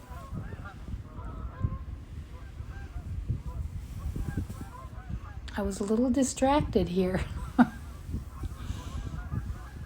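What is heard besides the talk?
snow geese honking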